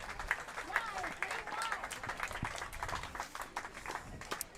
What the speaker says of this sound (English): You can hear the crowd going wild for our championship court number 1.